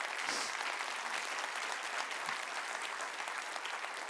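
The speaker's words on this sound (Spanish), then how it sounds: "Dele un aplauso al Señor" Continuous applause from a church congregation during a sermon, many hands clapping in a steady, even roar heard from some distance.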